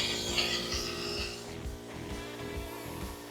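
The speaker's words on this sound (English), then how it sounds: "two sandings going on at once here." Rhythmic back-and-forth sanding of a wooden boat kit's top and frame, two sanders working at once, with steady scratchy strokes close by at a moderate level.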